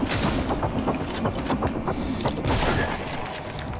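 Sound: shotgun firing in the video game Prey

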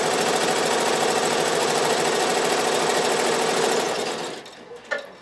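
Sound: Avancé embroidery sewing machine sewing a design

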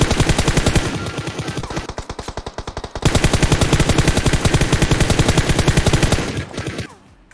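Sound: gunfire in the video game PUBG Mobile

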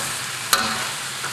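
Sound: onion wedges frying in a pan

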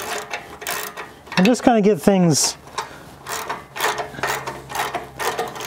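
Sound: ratchet tightening bolts on a Jeep JK rear bumper

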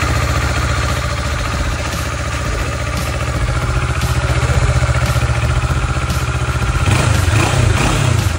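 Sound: Kawasaki ER6N 650cc two-cylinder motorcycle engine

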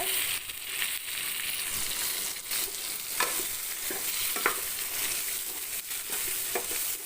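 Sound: spices and onions sautéing in a pan

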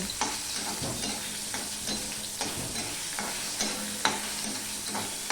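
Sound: marinated dried fish (shutki) frying in oil

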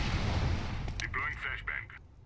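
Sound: grenade explosion in video game Counter-Strike: Global Offensive

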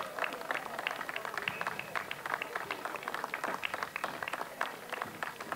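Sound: audience applause for folk dance group

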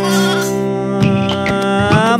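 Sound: goat kid bleating

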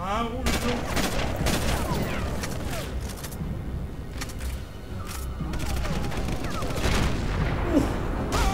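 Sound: gunshot in a video game

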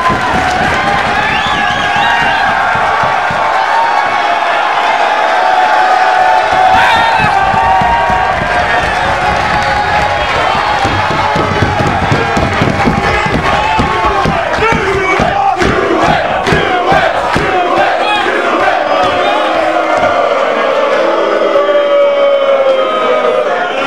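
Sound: wrestling fans chanting

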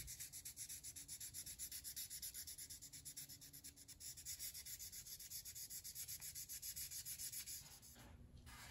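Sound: hand sanding a tobacco pipe stem

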